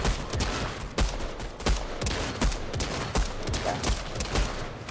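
Rapid gunfire in Fortnite, with sharp, loud shots rattling off in quick bursts one after another and filling the whole stretch without pause.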